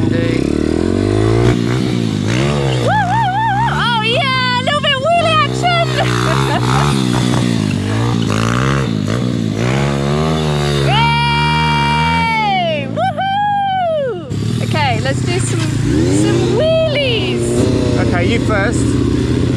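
A mini bike's small engine revving hard during a stunt, rising and falling whines that sound loud and close, with a person speaking over it at times.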